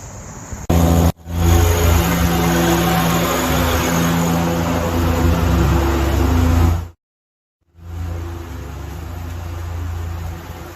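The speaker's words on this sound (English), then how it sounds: "So riding the tractor around, cutting grass is pretty loud." A riding lawn tractor drones loudly and steadily while cutting grass, its engine hum constant and close, broken briefly by a sudden drop to near silence before the drone resumes.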